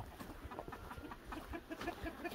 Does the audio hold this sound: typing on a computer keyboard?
no